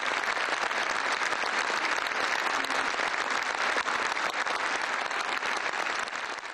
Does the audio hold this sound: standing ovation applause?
yes